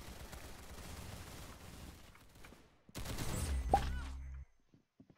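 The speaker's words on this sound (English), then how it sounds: "She shoots me from behind." Gunfire in the Roblox shooter Arsenal, a continuous rattle of shots that drops off, then a louder burst of rapid fire with a ringing tone that cuts out abruptly.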